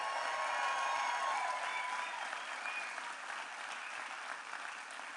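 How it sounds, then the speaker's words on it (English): Sustained audience applause at a Donald Trump town hall in Zebulon, Georgia greets Pastor Billy Smith and the Christ Chapel team, even clapping and crowd noise slowly easing over five seconds. "Let's give a round of applause to Pastor Billy Smith and the Christ Chapel team."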